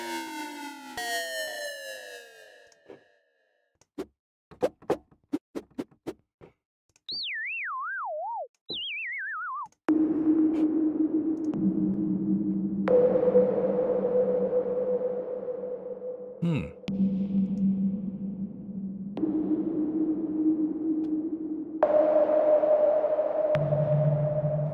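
An MS-20 style synthesizer patch in Rob Papen Blue-III plays fast chirps and blips, swooping pitch sweeps, then sustained buzzy droning notes that step between pitches, loud and alone without any voice.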